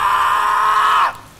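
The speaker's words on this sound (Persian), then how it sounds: "در بسته شد و صدای جیغ و داد پلیس رو میشه شنید." A loud, sustained scream-like cry with a steady high pitch and rich overtones runs for about a second, then cuts off abruptly into quiet; it plays as a sound effect of screaming and shouting from police officers behind a closed door.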